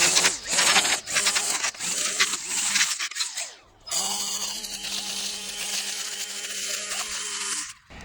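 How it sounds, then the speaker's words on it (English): A SKIL 40V battery string trimmer cuts weeds around a property, giving a steady, close whirring buzz with a brief drop in the middle before it resumes strongly. "I'm gonna take it around and weed whack my whole property"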